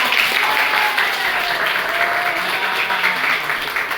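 Classroom applause from students at a religious studies lesson, steady dense clapping that fills the whole stretch at moderate loudness without pause.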